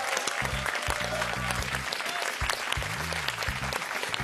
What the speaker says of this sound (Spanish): Muy bien, aplausos para ellos.